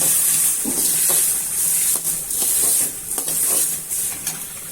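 Tomatoes and onions sauté in a pan for a wedding-style kara kuzhambu, giving a loud, continuous sizzle. Scraping stirs break through the sizzle at intervals, with no voices.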